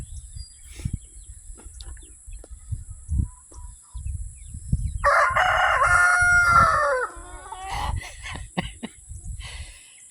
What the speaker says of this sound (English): I just heard him crow. You gonna crow back?